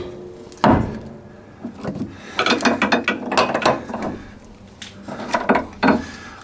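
A hand ratchet with an extension and 17 mm socket cracks loose a rear subframe brace bolt on an S14/S15 Nissan Silvia, giving several bursts of sharp, close pawl clicking separated by short pauses.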